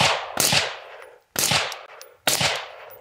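A short AR rifle fitted with a B&T suppressor fires three shots a few yards away, each a deep, thuddy report with a brief trailing echo, spaced about a second apart, with no voices.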